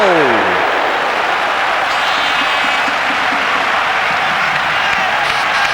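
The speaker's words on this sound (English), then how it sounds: "the resonance of disappointment there, rebounding from the roof. As that Spanish crowd went, ooh-ah" A Spanish indoor futsal crowd at a 1996 Spain–Brazil final lets out a loud collective groan of disappointment that rings and echoes off the arena roof, settling into a sustained roar.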